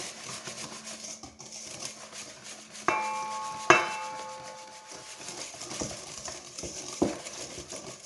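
A whisk works flour into sugar, butter and egg for jam cookie dough in a bowl. Soft stirring runs throughout, broken by a few sharp metallic clanks and taps against the bowl.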